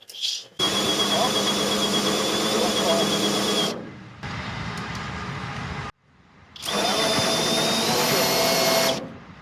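A power drill cranking trailer landing gear whines loudly under heavy load in two long runs separated by a brief pause, with a grinding mechanical rumble throughout.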